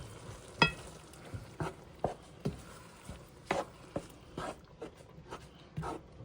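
A spoon stirs petite diced tomatoes into a meaty tomato sauce in a pot, with soft irregular scraping and thick wet sloshing strokes, fairly quiet and close, with no talk.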